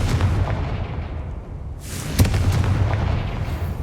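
Two booming blasts from the Confringo fire spell in Hogwarts Legacy: a rumbling explosion fading at the start, then a sharp, loud blast partway through that rolls on as a heavy, lasting rumble.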